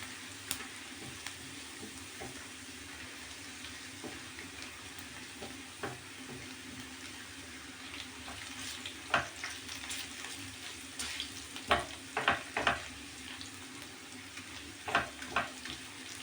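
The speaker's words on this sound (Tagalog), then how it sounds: "Lutuin ko lang yung ating bawang." Garlic fries in a pan with a soft continuous sizzle, joined later by a run of louder scraping stirs and utensil taps, near but moderately quiet, no one speaking.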